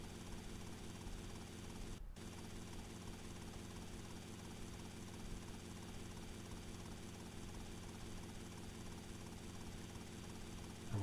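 Helicopter rotor in GTA Vice City, a steady, dense thrumming drone filling the whole stretch with a brief dropout near the start, loud and continuous with no voices.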